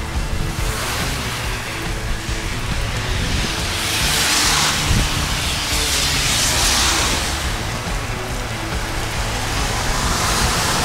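Heavy rain pours steadily during a bicycle ride on a road from Kaunas to Rome in Italy, with passing cars. The dense, continuous hiss stays loud and even throughout, swelling slightly midway, with no talk.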